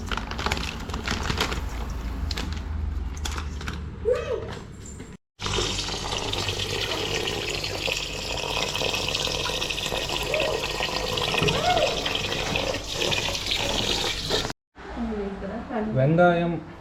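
Water pours steadily from a tap over basmati rice to soak it, a continuous splashing rush with a brief break and a pause near the end, with some talk at the start.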